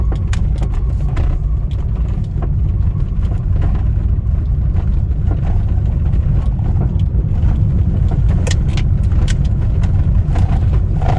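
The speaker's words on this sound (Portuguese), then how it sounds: "bem aqui próximo do pedal de freio, que dá pra ouvir o barulho." A Hyundai HB car drives over a cobblestone street, giving a constant road rumble with scattered faint knocks and rattles from the suspension near the brake pedal.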